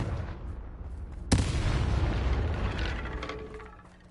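A Confringo spell explosion in Hogwarts Legacy: one sudden loud blast that rolls into a long, dense roar of rumble and debris, slowly fading over several seconds, with no voices.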